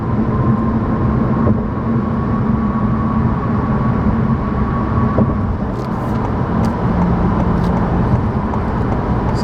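Steady road traffic rumble heard from inside a car on a road trip, continuous and fairly loud with passing vehicle whooshes and no talk.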